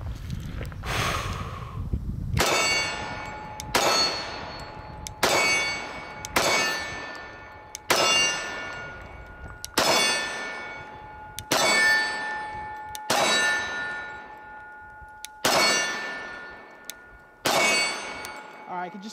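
A Walther PPQ 45 or Glock 21 pistol is fired at steel targets. About nine sharp, ringing clangs arrive at roughly even intervals, each followed by a bright metallic decay.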